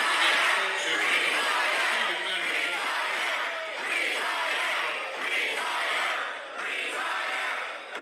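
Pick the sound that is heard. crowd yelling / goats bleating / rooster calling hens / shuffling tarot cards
crowd yelling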